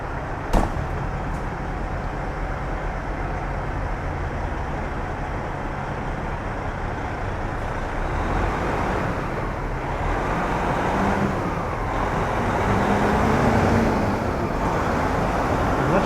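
Heavy delivery truck pulling away after unloading fencing near the White House at night, a steady roadway rumble that swells slightly as it moves, with city traffic noise around and no talk.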